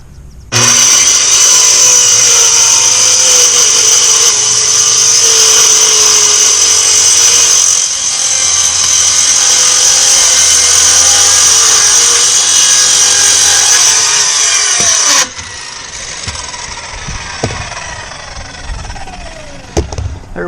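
A power saw ripping through a sheet of plywood for a raised garden bed, a loud steady high whine running for about fifteen seconds before it cuts off and winds down, leaving quieter handling noises.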